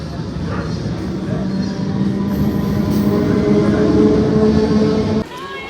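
Train rumbling at a station platform, a steady loud mechanical drone with low hum and tonal whine that cuts off abruptly near the end.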